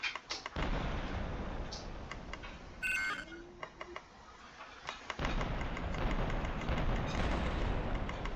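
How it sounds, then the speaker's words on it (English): Police officer firing a gun in the destruction video game Colossal Havoc, heard as dense, loud bursts of rapid gunfire and booms that cut out briefly midway, then resume with a few sharp electronic beeps. "Oh look, a police officer shooting at me."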